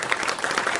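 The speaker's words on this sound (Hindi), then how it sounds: "तालियां कमजोर है।" Brief, even applause from an audience at a Hindi poetry recital (kavi sammelan), a steady patter of many hands that sounds thin and moderate, with no voices over it.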